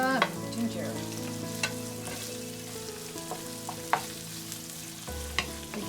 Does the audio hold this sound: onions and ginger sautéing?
yes